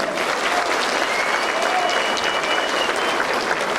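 A crowd at a Turkish political party rally applauds steadily and loudly, a dense, even wash of clapping from many people that carries on without a break throughout.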